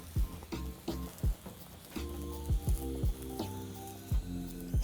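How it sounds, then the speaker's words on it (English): Plain hot dog buns toast in a hot pan, giving a steady close sizzle broken by repeated scraping and pressing sounds as they are moved around. "So you can apply butter on your buns, but I choose to toast them plain."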